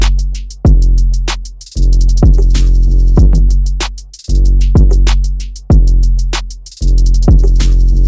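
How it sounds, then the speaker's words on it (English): A hard trap-style synth beat's full drum pattern plays alone: booming kicks with long decaying bass tails, sharp snares and rapid hi-hat rolls in a steady loop. "these are what all the drums sound like"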